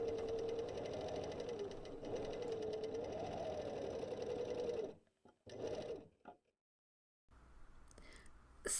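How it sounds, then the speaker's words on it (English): Serger stitching the final section of quilt binding, a close, steady mechanical whir that runs for about five seconds, stops, gives one short burst and then falls quiet. "Stitch the final section of the binding to the project, trimming any excess."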